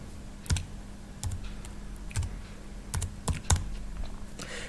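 Computer keyboard keys clacking as someone types a bulleted list in Microsoft Word, with irregular bursts of sharp, close keystrokes separated by short pauses over a steady low hum, no voices.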